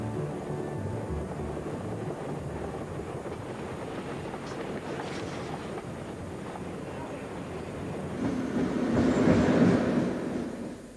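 A passenger train travelling between New York and Washington, D.C. rumbles steadily, a continuous low rolling drone that swells slightly near the end, heard from on board.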